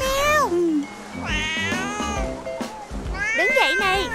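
A cartoon-style cat meows repeatedly after falling into water, with drawn-out, wavering meows that rise and fall, mixed with voiced expressive vocalizing throughout; the cries sound close and fairly loud, as if a voice imitates the cat.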